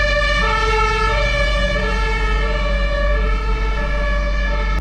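An emergency vehicle siren wails steadily as it passes through stalled highway traffic, the rising and falling tone loud and close over a low rumble of idling vehicles.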